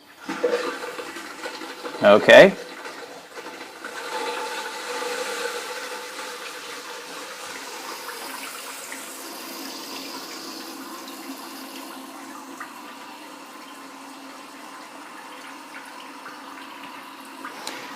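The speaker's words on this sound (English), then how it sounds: "at this point we're ready to turn the water back on" TOTO toilet tank refilling through a newly installed TSU99A.X fill valve after the water is turned back on; a brief loud rush at the start settles into a long steady hiss of filling water, with a short spoken word early.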